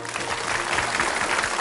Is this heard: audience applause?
yes